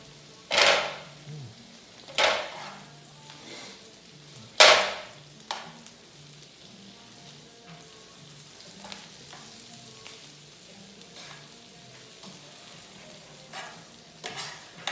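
Garlic frying quickly in a pan makes a soft, steady sizzle under a few loud scraping strokes of a utensil early on, then quieter stirring taps.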